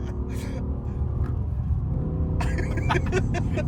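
A BMW M6 with a V10 engine and SMG gearbox drives along mountain roads, giving a steady low engine rumble and road noise heard from inside the car, with voices talking briefly over it.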